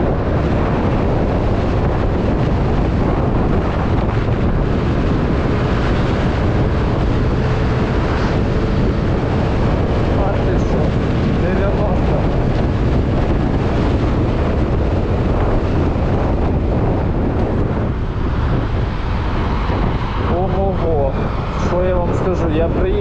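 A Suzuki Address 125 scooter rides along a road, with loud, constant wind buffeting and a continuous engine drone throughout, and a voice talks over it.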